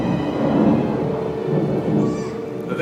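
A thunderstorm with rain, rolling thunder rumbling low and heavy over a continuous hiss of falling rain, sustained and fairly close throughout.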